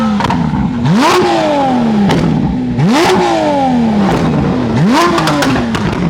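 Toyota Supra MK4 with a big-turbo 2JZ engine accelerating on a test drive, loud close revs climbing through three repeated gear pulls, each rising pitch cut by a sharp shift, with no talk.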